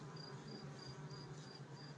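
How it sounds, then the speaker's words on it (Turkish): Honey bee colony in a hive box, a dense continuous buzz of many bees heard up close but softly, with a steady drone and faint repeating high whines over it and no one talking. "Görmüş olduğunuz arı kolonisi"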